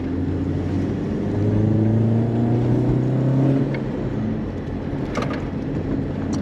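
Volkswagen MK2 Golf race car running on a track, its engine note droning steadily and swelling louder as it draws near, then easing off, with no talking.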